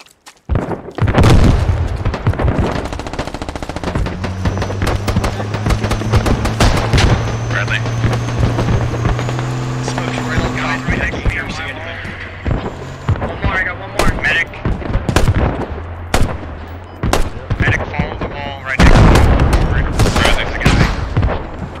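Heavy gunfire in the SquadOps military shooter game, with dense bursts and single shots cracking near and far through most of the stretch amid loud combat noise, while voices talk over it.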